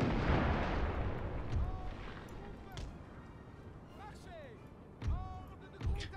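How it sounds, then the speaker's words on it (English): Artillery guns fire into a city in the video game Napoleon Total War, with booming shots and distant blasts amid battle noise, a couple of louder reports near the end. "we'll be firing guns into the city"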